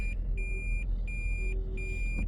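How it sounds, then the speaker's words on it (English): Car reversing beeps sounding in a steady repeating pattern, four evenly spaced electronic tones over a constant low rumble of traffic or engine noise. "That beep reverse, that's just for me. It's to know that my car is in reverse."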